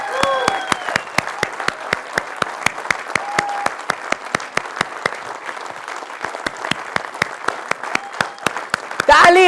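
An audience at an Atomy India felicitation event applauds in welcome of Crown Master Jong Mi Kim, sustained crowd clapping with a sharp, regular rhythmic beat running through it, and voices heard underneath.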